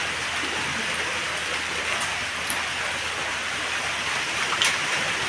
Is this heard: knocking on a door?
no